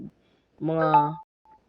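A cellphone gives a single short tonal chime, like a text alert, followed by a faint brief beep in an otherwise quiet moment during a Minecraft survival game session.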